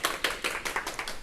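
Applause from an audience greeting a professor at a university lifelong-education results-sharing event: a short, close burst of distinct, rhythmic hand claps, sparse rather than a dense crowd roar, with no talking.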